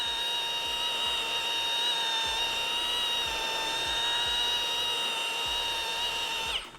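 Steady high-pitched whine of a rotary buffer polishing an epoxy surface, running continuously, with faint low rubbing pulses underneath, winding down at the end.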